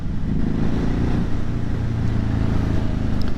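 A 2020 Ducati Hypermotard 950 SP runs under load, its engine a loud, close, continuous drone with a pitch change midway as the quick shifter takes a gear.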